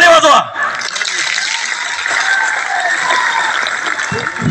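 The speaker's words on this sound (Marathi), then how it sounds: "दोन्ही हाताने टाळी वाजवा" A large crowd at an outdoor political rally in Nanded applauds with both hands, a dense, steady roar of clapping that begins right after a brief shouted voice and keeps going at full strength to the end.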